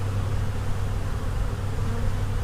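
Honeybees drone in an opened hive during a spring brood inspection, a dense, continuous buzz close by, steady and loud with no talking over it.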